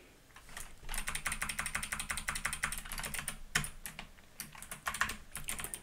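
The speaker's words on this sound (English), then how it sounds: "I'm also really glad that you guys find the clicks from my keyboard." Rapid computer keyboard typing with crisp, closely spaced key clicks in irregular bursts, fairly close and steady, with occasional louder keystrokes and no speech.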